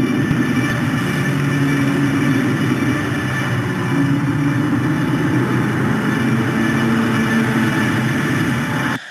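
Industrial seafloor mining equipment gives a steady, loud, low mechanical drone with a constant hum, unbroken for the whole stretch and with no voices.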